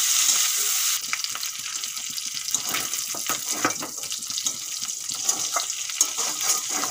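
Dried fish (shutki) frying in hot oil in a pan: a loud, continuous sizzle broken by sharp crackles and stirring scrapes, close up and without speech.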